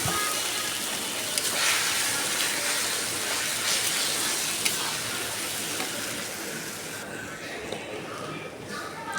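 Noodles frying in a pan with onion and egg give a steady, close sizzle with faint stirring scrapes, continuous throughout and easing slightly near the end.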